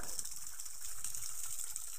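Steady rushing water gushes from between large rocks, a broad continuous hissing flow with no voices.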